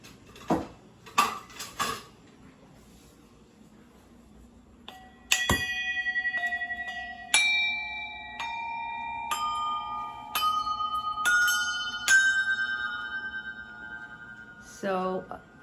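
A set of cowbells hanging above a kitchen window is rung. A few dull knocks come first, then a run of clear metallic clangs, each ringing on and overlapping into a sustained, fading chime.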